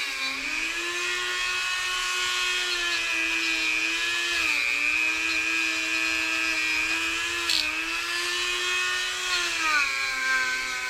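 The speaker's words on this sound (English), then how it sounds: "not much to talk about while I'm just running a Dremel" A Dremel rotary tool whines continuously while cleaning 1972 Honda CB500 Four engine parts, a high steady pitch that dips slightly as it loads against the metal, running alone and close for about eleven seconds.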